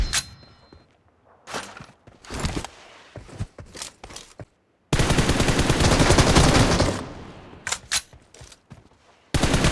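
PUBG Mobile gunfire comes in loud close bursts: scattered single shots and short volleys, then a sustained automatic stream lasting a couple of seconds, followed by more isolated shots.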